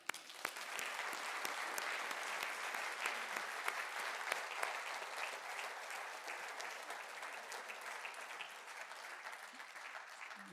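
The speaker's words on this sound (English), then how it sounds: "So I would like an applause." An audience at a lecture breaks into applause, a full, even round of clapping that rises quickly, stays steady for about ten seconds and fades slightly toward the end, fairly quiet overall.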